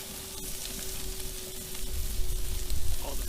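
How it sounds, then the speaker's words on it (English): Fat on a reverse-seared ribeye steak searing in a hot pan, a loud dense continuous sizzle up close that swells slightly toward the end. "All the fat nice and seared."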